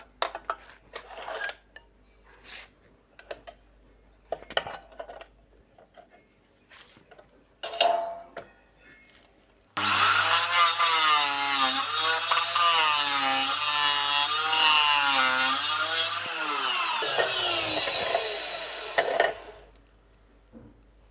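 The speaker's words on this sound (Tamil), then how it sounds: "இதில் வந்து பார்த்திங்கன்னா இந்த ஆங்கிள் வெட்டுறதுக்கு அப்படி ஈஸியாக திருப்பி வெட்டுறேன்னு பாருங்க" An aluminium cutting machine saws through iron angle at a 45-degree angle, with scattered knocks from setup, then a loud, steady, whining cut for about nine seconds that winds down, close by.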